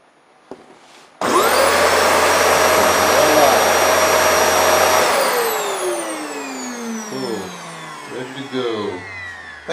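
A vacuum cleaner switches on after a brief pause and runs loud and steady with a high whine for about four seconds, then spins down with a falling pitch while faint clicks follow.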